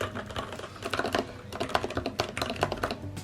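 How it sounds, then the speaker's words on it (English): Fast typing on a Ducky MIYA Pro 65% mechanical keyboard with Cherry MX Red switches and PBT keycaps: a close, continuous run of soft, muted keystrokes in uneven bursts, heard alone. "It's a very muted click."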